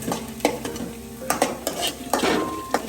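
Onion sauteing in a pan for a fig thoran is stirred with a utensil, giving sharp scraping clacks against the metal over a light, low sizzle, close and with no voices.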